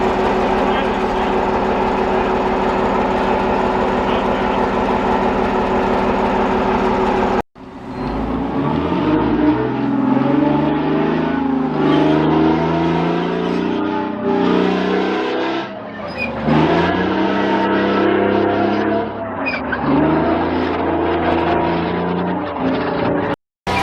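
A heavy tank engine rumbles loud and close, idling and then revving in uneven surges as the tank moves, with people talking over the machinery.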